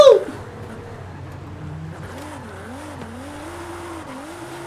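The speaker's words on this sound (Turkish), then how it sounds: "Dedikten sonra yaptığım drift." A Nissan 350Z drifts in Forza Horizon 5, its engine droning steadily while tyres squeal in rising and falling wails through the slide, heard alone at moderate level after a brief loud burst at the start.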